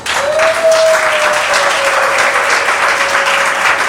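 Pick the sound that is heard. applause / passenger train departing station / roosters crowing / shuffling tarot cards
applause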